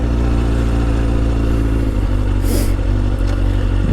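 Steady motorcycle engine drone while riding on a city street near sidewalks and turning trucks, loud and constant throughout, with a faint high whine briefly rising near the end.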